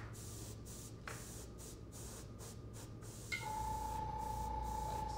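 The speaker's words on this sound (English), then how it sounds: "I'm mostly spraying it over the scaled areas" Brownish-green spray paint hisses steadily onto an artificial taxidermy fish, close and fairly loud, shifting slightly in tone partway through as the nozzle keeps going.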